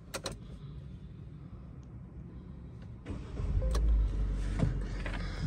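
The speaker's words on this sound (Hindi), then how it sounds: "तो गाड़ी को स्टार्ट करते हैं। आप स्टार्टअप चेक करें ज़रा गाड़ी का" A 2024 Changan Alsvin Black Edition car engine cranks and catches after a few quiet clicks, then settles into a steady low idle, close by with no talking.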